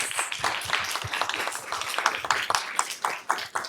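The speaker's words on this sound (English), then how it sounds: "if everyone wants to just quickly clap for our panelists to thank them" An audience at a panel discussion claps to thank the panelists, a brisk, moderately loud patter of many hands with individual claps standing out, steady throughout.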